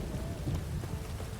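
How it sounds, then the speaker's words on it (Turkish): In The Witcher 3: Wild Hunt, dense, steady rain pours with a deep rumble of thunder underneath, heard briefly and alone. "Islandı, yağmur yağıyor"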